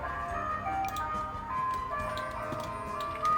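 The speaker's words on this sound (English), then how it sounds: "Sorry if you can hear the ice cream truck." Tinkling ice cream truck chime melody playing loudly and steadily nearby in a village street, continuous tune over a low rumble of the vehicle.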